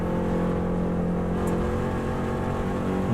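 A 2018 Subaru Impreza held in fifth gear on a winding road, its engine a loud, steady, even drone close to the listener with no breaks.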